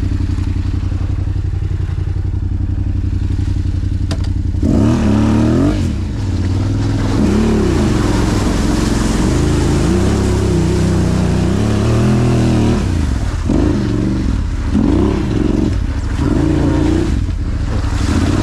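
The exhaust of a Yamaha Raptor quad revs loudly up close, idling at first and then rising in repeated throttle blips and sustained revving with a rough, clattering edge.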